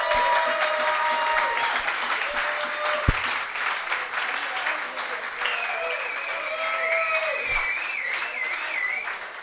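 Live audience applause fills a Cologne pub, the Bayenthaler Wirtshaus, at a football fan gathering, a dense steady wash of clapping lasting throughout, with tonal whistles or squeaks riding over it.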